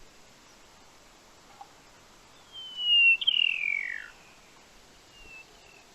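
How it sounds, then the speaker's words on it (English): A single grassland bird in the South African mountains gives one clear, high descending whistled call lasting about a second, moderately near against a quiet open background, followed by a fainter short whistle. "You'll hear their calls coming along the top of the mountains."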